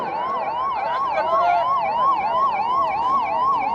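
Emergency vehicle siren at a Republic Day parade in Udaipur, a loud, close wailing siren sweeping up and down in a steady repeating cycle over a low crowd and street rumble.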